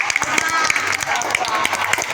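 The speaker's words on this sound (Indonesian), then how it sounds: "Boleh tepuk tangan dulu buat siapa?" A crowd claps in scattered, uneven bursts at a rock-geology presentation in Banyuwangi, the applause moderately loud and mixed with a voice speaking over it.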